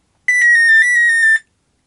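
Electronic alarm tone from a 1980s sound effects keyring toy, a loud, shrill warbling beep pattern lasting just over a second, alone and close.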